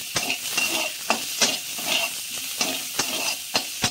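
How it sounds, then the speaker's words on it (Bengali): Chopped onion sizzles steadily in hot oil over fried tempering spices in a pan, a prawn curry underway, with a spatula scraping and stirring in regular strokes about twice a second. "ফোড়নটা ভাজা হয়ে গেছে, এবার একটা পেঁয়াজ দিয়ে দিলাম। এটাও ভাজা হবে"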